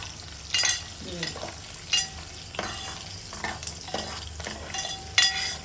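Dry fruits fry in ghee in a pan for vermicelli kheer, a steady close sizzle broken by repeated scraping stirs of a spoon.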